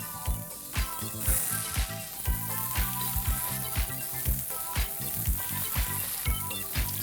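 Chicken keema tikkis fry in a pan of hot oil and ghee over medium heat, giving a close, steady sizzle broken by frequent crackling pops, with no talking.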